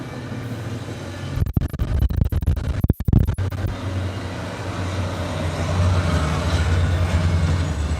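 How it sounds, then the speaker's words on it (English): A double-headed ACE commuter train rumbles past close by, with irregular clattering bursts midway and a steady low roar building toward the end. "Oh, it's that double header again."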